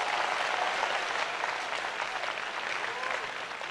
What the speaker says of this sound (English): I don't think you are clapping properly.